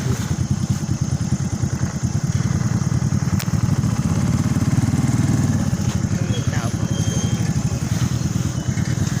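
Motorcycle engine idling at night on a mountain road, a steady close chugging putter under intermittent talk.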